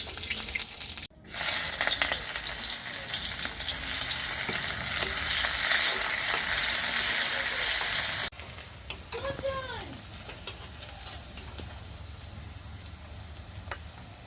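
Oil sizzles and fries in a pan for a chicken curry with potatoes, a loud, close hiss for about eight seconds that then drops to a softer crackle with a few light clinks.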